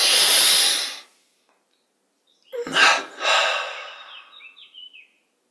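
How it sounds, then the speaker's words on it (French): Breathing exercise with a double inhalation through the nostrils: a long airy breath, a pause of silence, then two quick sniffing intakes close to the microphone, trailing into soft breath sounds. "Et maintenant, une double inspire par les narines."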